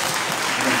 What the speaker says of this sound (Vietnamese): chúng ta cùng cho một tràng pháo tay